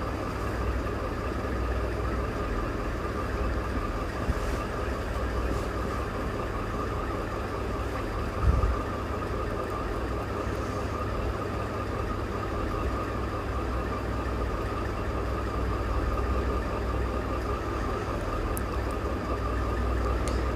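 Sewing machine running a steady press stitch on fabric and canvas, a continuous even motor hum and rapid needle whir that holds steady throughout at moderate level, with no talk.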